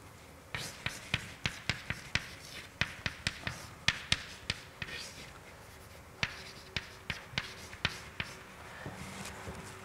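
Marker or chalk writing on a board in a lecture hall on graph spectra, heard as a steady run of quick, sharp taps and strokes in bursts of several marks at a time, close and clear, with faint room hum underneath.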